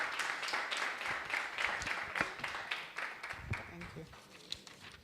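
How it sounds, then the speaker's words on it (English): Audience applause at a gender equality consultative forum in Ghana welcoming a speaker to the stage, a sustained crowd clapping at moderate level with some voices mixed in. "Please show her some love with a round of applause."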